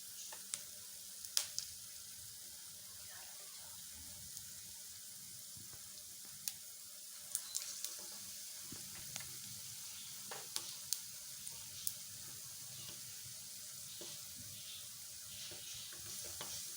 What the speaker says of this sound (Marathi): ते तापलेल्या तेलामध्ये सोडायचे आहे तळण्यासाठी भजी।